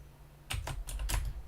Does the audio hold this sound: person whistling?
no